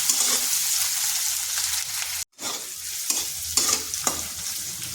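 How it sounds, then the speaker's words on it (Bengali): Onion frying with a pinch of salt in a pan alongside potato and pointed gourd, a continuous close sizzle broken by several scraping stirs of a spatula, with one brief silent gap midway. "পেঁয়াজটা হালকা ভাজা হয়ে গেছে"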